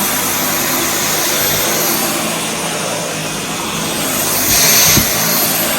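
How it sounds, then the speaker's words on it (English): A loud, steady motor whir with a broad hiss runs throughout, rising slightly near the end, from a Dyson cordless vacuum cleaner working close by in a bedroom. "I'm going to vacuum the bedrooms upstairs"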